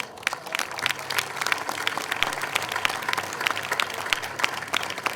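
A crowd in an outdoor town square at Jesolo claps steadily before a Water Music orchestra concert, dense and continuous applause heard from close by, with no voices over it.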